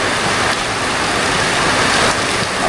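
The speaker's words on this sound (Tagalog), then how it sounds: "Tapos ang ulan." Steady, dense rain falls, an even hiss with no breaks and no talking, fairly loud and close.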